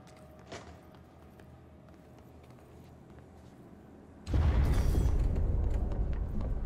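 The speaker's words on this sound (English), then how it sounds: "The effect of the explosion is rather nice." A video game explosion bursts in with a sudden heavy boom midway and then keeps up as a loud, sustained rumbling roar after a quieter stretch of background game ambience.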